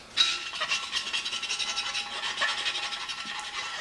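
Flat screwdriver scraping caked hard dirt off a Kubota engine on a Bandit stump grinder, a rapid, rhythmic rasping scratch repeated in quick strokes, close and fairly loud, no talking.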